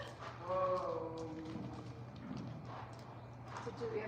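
Hooves of a ridden horse clip-clopping at a walk, soft and steady beneath nearby people talking, with a low background rumble.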